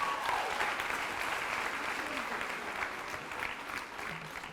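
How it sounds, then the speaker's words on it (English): Sustained applause from a graduation ceremony audience at an academy, a dense, even wash of clapping that holds steady and only slightly fades over the few seconds. "Another round of applause, please."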